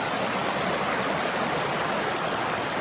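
Brook water cascading down over rocks, heard up close as a steady, dense rushing wash with no pauses or voices.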